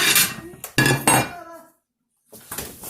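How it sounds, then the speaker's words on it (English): Plate and silverware clinking against each other while setting up a serving of eggs, with a few sharp, bright clatters and clinks, a pause of silence, then more faint clinking. "Don't forget the silverware."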